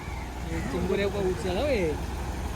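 A low tractor engine rumbles steadily in the background at a rice paddy field during planting in Karjat, while a person speaks over it nearby.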